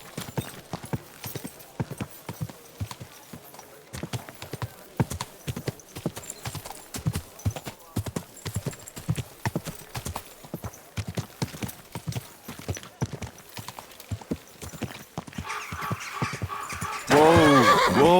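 A horse in Kingdom Come Deliverance II trots with a steady, rhythmic clip-clop of hooves throughout, then lets out a close, loud whinny at the very end.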